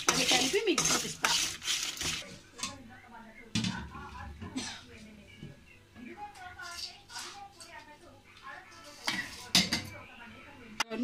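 Bitter gourd pieces being mixed with spice powder and salt in a metal vessel, with repeated scraping and clattering bursts of a spoon against the pot, close by, and a voice talking between the stirs.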